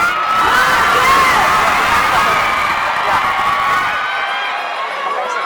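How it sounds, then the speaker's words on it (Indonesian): A large grandstand crowd at the Sentul circuit in Indonesia shouts Marc Marquez's name together in a loud, dense roar of many voices that holds for about four seconds and then drops away sharply. "Teriakan Marc Marquez 3 kali."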